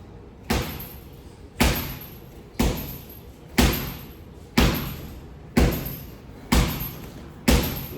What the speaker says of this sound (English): I can literally keep my arm here, and I can throw multiple body shots